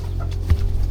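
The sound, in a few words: chickens clucking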